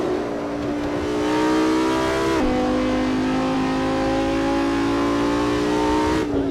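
An Audi R8 V10 in Assetto Corsa pulls flat out, the engine note rising steadily and loud with two quick dips where it shifts up before climbing again, with no voice over it.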